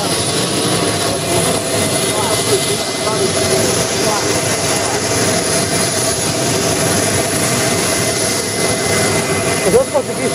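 A jet airliner roars continuously at an airport, a broad steady engine rumble filling the whole clip; people talk over it.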